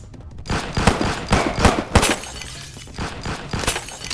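Sharp gunshots crack in a rapid, irregular series in the video game Police Stories, loud and close, with bursts of fire layered over a busy background of action.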